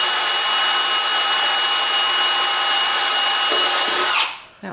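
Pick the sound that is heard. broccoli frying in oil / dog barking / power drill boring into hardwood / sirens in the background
power drill boring into hardwood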